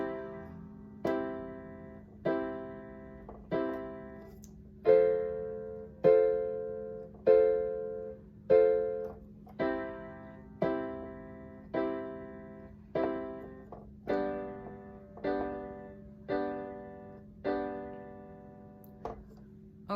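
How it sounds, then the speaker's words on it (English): Piano chords are struck one by one in a slow, steady pulse over a held low left-hand note, each chord ringing and decaying before the next, soft and unaccompanied. "let's just say we're playing chords over it"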